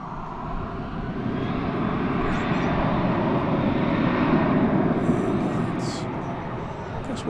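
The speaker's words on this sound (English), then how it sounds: "Incoming right now is American Flight 1871 from the gambling capital of the USA" An American Airlines jet arriving from Las Vegas at Dallas/Fort Worth airport gives a broad, steady engine roar that swells and holds near, then eases, with faint radio-like chirps toward the end.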